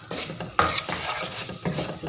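Sugar stirred into melted butter in a pan while cooking junglee pulao: a steady soft sizzle with scraping stir strokes, close and continuous, no voices.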